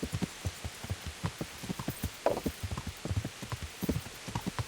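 Rain falling in the video game Kingdom Come: Deliverance, with a rhythmic clopping of hoofbeats running through it, moderately quiet, with an occasional louder splash.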